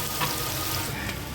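Frying tomatoes, about 2.25 kg of country tomatoes, sizzle in a large biryani pot made for a 30 kg batch. The hiss is steady and moderately loud, with no voices.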